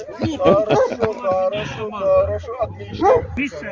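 A Belgian Malinois or German shepherd barks in short yips and whimpers at a kennel club Halloween event, close by and mixed with people talking and laughing.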